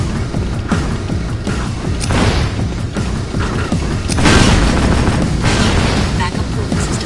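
Loud, sustained explosions and crashing booms rumble through a Jak II game scene, with a big blast surging near the middle, all set among a missile systems overload alarm sequence.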